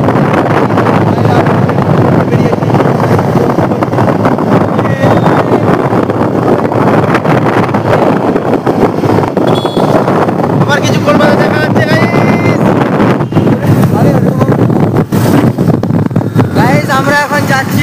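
Heavy wind buffeting roars over a low engine drone while riding the uncle's motorbike toward Ghatal, loud and unbroken throughout, with indistinct voices now and then.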